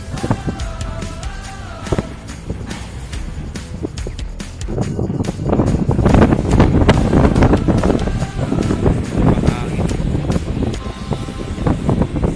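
Strong wind buffets the microphone in gusty, roaring bursts on the deck of a moving ship at sea, growing louder halfway through, with a low engine-like rumble beneath.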